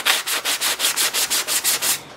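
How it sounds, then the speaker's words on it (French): A wooden cutting board is hand-sanded in a small workshop, steady rhythmic back-and-forth rasping strokes, about five per second, loud and close with no voices. "en donnant un petit coup de ponçage, ça va partir"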